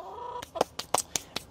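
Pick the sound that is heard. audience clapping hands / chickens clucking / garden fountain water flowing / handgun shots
chickens clucking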